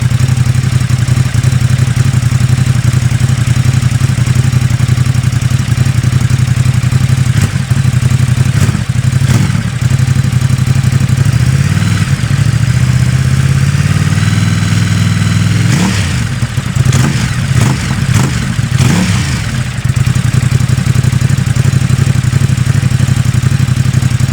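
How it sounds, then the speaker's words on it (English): A Ducati SuperSport S motorcycle engine idles loudly and close, then is revved with a rising, falling blip and several quick throttle blips before settling back to a steady idle. "But yeah, let's have a rev then."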